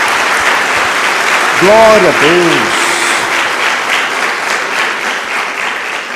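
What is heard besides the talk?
congregation applause in church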